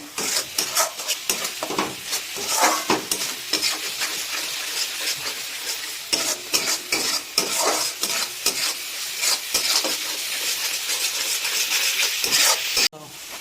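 Spices with ginger, garlic and salt sizzle loudly in a pan over a high gas flame, stirred vigorously with continuous scraping and clattering for chicken pickle.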